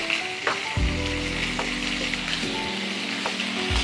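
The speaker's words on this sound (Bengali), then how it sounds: "এবার এর মধ্যে দিয়ে দেব আলু।" Diced potatoes hiss and sizzle as they hit hot oil with a cumin-seed tempering, a steady close frying noise with scraping stirs and a low hum running beneath.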